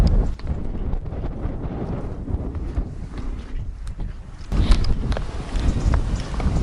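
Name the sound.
wind blowing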